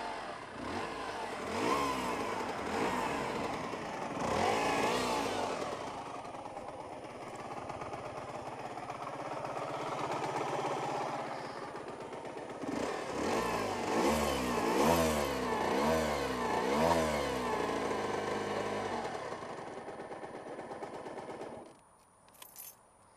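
An Aprilia RS125 motorcycle with a fresh mechanical failure revs loudly and raggedly, its two-stroke engine surging and dropping in repeated bursts, with a rattling, jangling clatter over the rising pitch before cutting out abruptly near the end.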